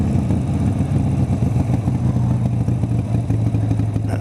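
A motorcycle riding along in traffic, its engine a steady mid-pitched drone with a faint rising tone, close and continuous, mixed with road and wind rumble and light clatter, no talking.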